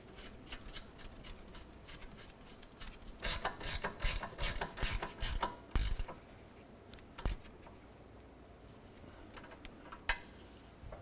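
A hand ratchet clicks in quick bursts as it tightens the sway bar end link nut on a 2008–2012 Honda Accord. The clicking is close and sharp, with a dense run in the middle and a few scattered clicks after.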